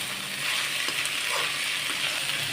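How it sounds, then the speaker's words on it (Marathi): Green peas frying in oil for a matar pulao, a steady close sizzle that holds evenly loud throughout with faint stirring scrapes and no voices. "मटर असा टाकला का नाही तेलात परतायला"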